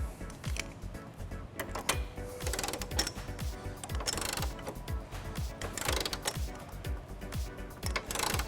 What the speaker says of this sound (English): now we're going to tighten and torque all of our nuts to the manufacturer specification